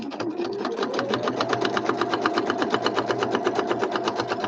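Sewing machine stitching fabric for woodland-theme journal ephemera, a fast even mechanical chatter of regular stitch pulses, close and alone.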